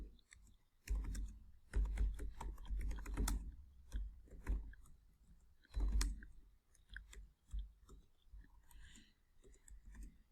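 Keys clatter on a computer keyboard as an email is typed, close and moderately loud, in uneven bursts of rapid clicks with short pauses between words.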